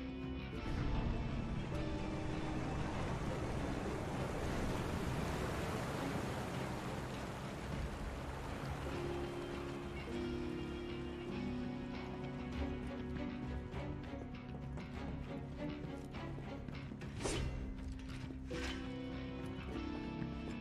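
Rushing water drains through a sewer in the Final Fantasy VII Remake video game, a broad, steady wash of noise that stays level and continuous for about twenty seconds, with faint tonal game sounds and a few soft clicks near the end.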